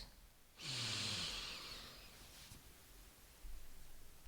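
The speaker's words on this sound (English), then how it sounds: "take a deep breath in through your" A single long, deep inhale through the nose, close and breathy, lasting about a second and a half before fading into soft room quiet.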